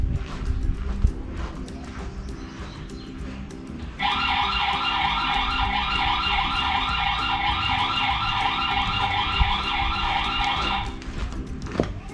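A loud electronic alarm siren from a V380 Pro light-bulb security camera starts abruptly and wails in a rapid warbling pattern for several seconds over a low background hum.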